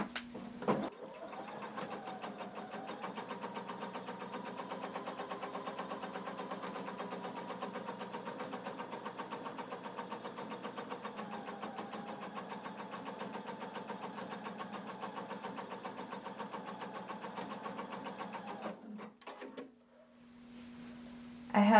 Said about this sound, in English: create a basting stitch all the way around here